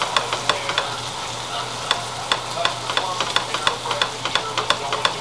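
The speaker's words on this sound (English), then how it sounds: "just keep stirring it so it won't be lumpy" Cream corn being stirred in a pot: irregular spoon scrapes and taps against the pot over a low simmering background, close and moderately loud, with no talking.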